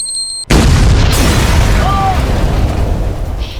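A bomb goes off in the Roblox game The Mimic: a sudden, loud blast gives way to a long, heavy rumble that slowly dies down.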